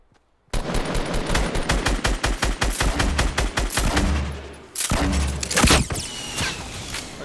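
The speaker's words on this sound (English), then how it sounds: "Shoot him before he goes in the forest" Sustained automatic gunfire in Fortnite, a rapid, loud rattle of shots lasting several seconds, a short pause, then further bursts and impacts close by.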